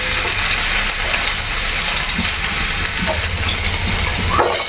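Garlic sizzles steadily in hot coconut oil in a pan, a loud continuous frying hiss with occasional stirring scrapes and no talk.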